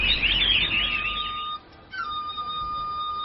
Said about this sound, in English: A favorite local pastime is taking pet birds to the park and listening to them sing.